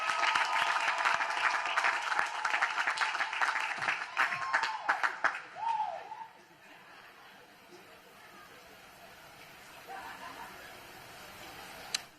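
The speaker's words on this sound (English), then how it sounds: "let's give our mothers and grandmas a round of applause." Audience applause at a South Carolina commencement ceremony honoring mothers and grandmothers, a full crowd clapping loudly for about five seconds, then thinning into scattered claps, murmured chatter and a little laughter before fading to quiet.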